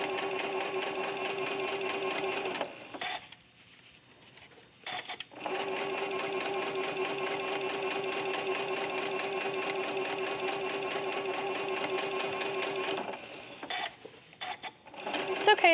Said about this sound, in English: Just gonna manipulate that curve a little as I'm sewing, taking the pins out as I go.